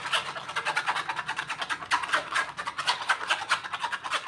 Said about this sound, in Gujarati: હવે આને આવી રીતે સરસ ગાળી લેવાનું છે